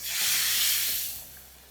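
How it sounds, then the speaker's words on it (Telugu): A loud burst of hissing sizzle as hot oil tempering is poured into cooked lentils with cucumber, swelling quickly and then fading over a second or so. "ఇప్పుడు ఈ తాలింపుని పప్పులో వేసేస్తున్నాం"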